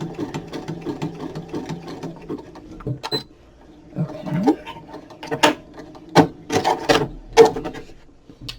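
Sewing machine stitching a pen case slowly, its motor running in short uneven bursts with soft mechanical rattling and pauses between runs, close and moderately loud.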